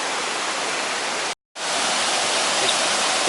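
A small waterfall about 15 feet high near a Llanberis footpath gives a dense, steady hiss of falling water that breaks off once briefly and then resumes at full strength.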